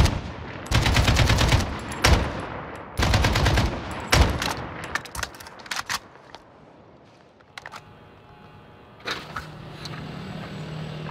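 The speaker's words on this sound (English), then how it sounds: "So we have to wait behind this wall until the shooting stops." Gunfire in a Port-au-Prince slum in Haiti, several loud sharp bursts of rapid shots in the first few seconds, then scattered quieter cracks and a more distant burst over lingering outdoor ambience.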